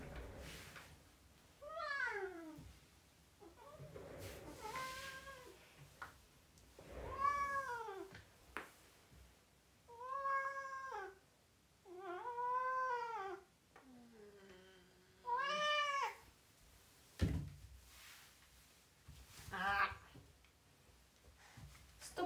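A pet cat meows repeatedly and insistently, with long, drawn-out, rising and falling cries spaced a few seconds apart, close and clear in a quiet room.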